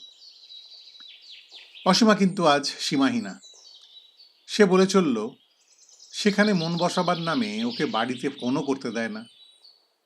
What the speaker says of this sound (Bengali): পাখিদের কিচিমিচি ডাক শোনা যাচ্ছে